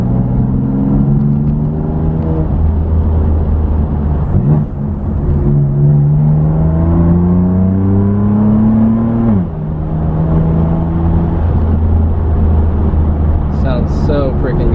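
BMW M3 with an Active Autowerke single mid pipe exhaust, the engine climbing and falling in pitch as its turbo spools up and down, a loud close drone from inside the car with a voice talking over it.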